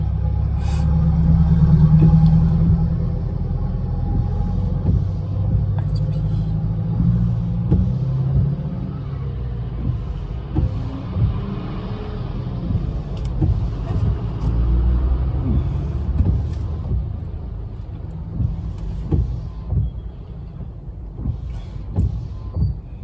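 Road traffic with cars passing in slow, congested flow, heard as a steady engine rumble with a louder vehicle early on and scattered honks and clatter, voices talking faintly underneath.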